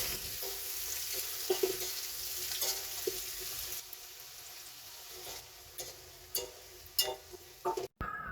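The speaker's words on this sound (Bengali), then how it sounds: "এখন অনেকগুলো পেঁয়াজ কুচি দিয়ে দিচ্ছি" Chopped onions, three or four of them, fry in mustard and soybean oil in a kadai, a soft steady sizzle broken by occasional scraping stirs and clatters, quiet and close, no talking.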